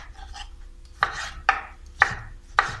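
A knife chops tomatoes on a cutting board in four firm, evenly spaced strikes, close up with a light scrape before the first cut.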